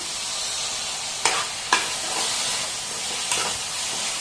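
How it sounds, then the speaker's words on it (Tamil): Onions sizzle steadily in a hot pan while being sautéed for mutton gravy, with a few brief scraping stirs of a spoon cutting through the constant loud frying hiss. "கண்ணாடி பதம் வர அளவுக்கு நல்லா வதக்கிக்கோங்க"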